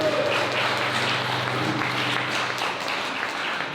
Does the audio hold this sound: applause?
yes